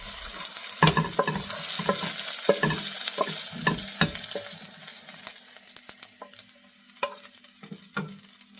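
Chicken fries and sizzles in a pan for fried rice, with a steady hiss broken by repeated scraping stirs of a utensil against the pan, close and fairly loud, with no talking.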